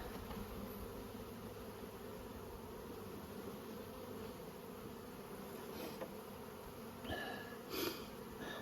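Honey bees hum around an open brood box during spring hive management at Nymboida, a steady low buzzing drone that fills the whole stretch, fairly faint and outdoors, with a couple of small handling noises near the end.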